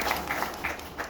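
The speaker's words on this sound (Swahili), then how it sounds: "Napenda nipongeze sana na kupigia makofi" A church congregation applauding, a short burst of soft, diffuse clapping from a crowd, fairly distant and steady throughout.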